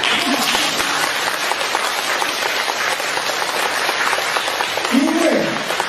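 An audience at a spiritual talk by a master applauds in a dense, sustained rain of clapping that keeps an even level, with a brief voice surfacing near the end.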